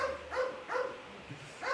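Dogs at home, all females, bark in short repeated bursts at a moderate distance, three or four yaps spaced across a couple of seconds with room noise between them.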